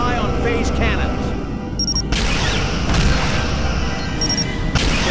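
Heavy, continuous rumbling blasts and crashes as a Romulan vessel is destroyed in the video game Star Trek: Legacy, with a couple of sharp high tones and synthetic effects layered over the booming noise.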